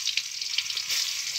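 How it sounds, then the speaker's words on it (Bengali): Bitter gourd frying in fish oil gives off a steady, close sizzle with crackly pops, unbroken for a brief moment. "তাই করলা ভাজি করে নিচ্ছি"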